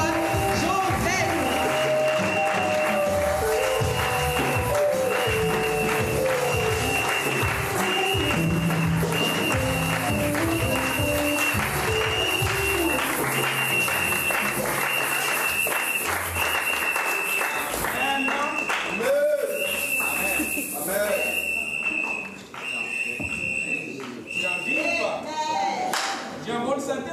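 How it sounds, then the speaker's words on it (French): A church congregation applauds loudly for the sermon and the preacher, sustained dense clapping filling the space, mixed with crowd cheers and a speaking voice over amplified sound. "acclame très très fort pour le message et le porteur du message, l'apôtre Joseph"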